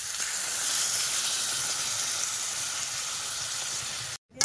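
Water poured into a hot pan of browned shrimp curry over a village cooking fire, a loud steady hissing sizzle that holds for about four seconds before cutting off abruptly.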